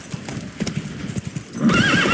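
Horse hooves clip-clop on the road in the video game The Witcher 3, a quick run of close hoofbeats followed by a loud horse whinny near the end.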